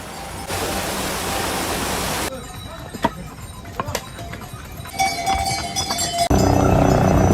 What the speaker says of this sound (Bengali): সবুজ পাহাড় থেকে ঝর্ণার জল নিচে নেমে আসছে